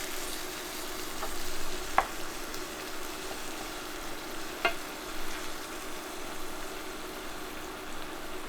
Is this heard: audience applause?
no